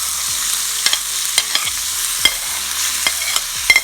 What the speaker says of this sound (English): Next, to fry the seasoning